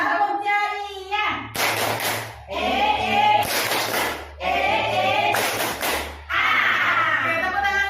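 Teachers repeat the tepuk ceria chant together, chanted lines broken by several loud, crisp bursts of unison clapping in a steady rhythm, near and lively.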